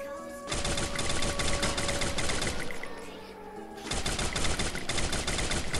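Rapid automatic gunfire in the battle royale game Free Fire comes in fast, even bursts of sharp cracks, pausing briefly around the middle before a second sustained volley resumes.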